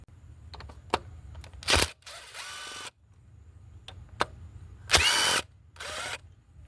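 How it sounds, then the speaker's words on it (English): A T30 Torx bit backs out two screws under the hood of a 2014 Chevy Cruze 1.4 during spark plug work, heard as short close bursts of powered driver whirring separated by quiet gaps and small clicks, with no talking. "I'm going to use this T30 to go ahead and get those two screws out"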